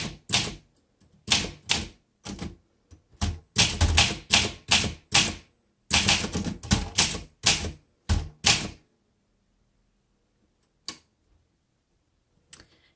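A 1963 Olympia SM7 manual typewriter clacks in quick bursts of crisp keystrokes, close and clear, for about nine seconds. It then falls quiet apart from two isolated taps.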